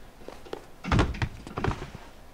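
A locked door being tried produces a cluster of dull thunks and rattles, two firmer knocks close together followed by a lighter burst, heard up close against a quiet, faintly noisy background.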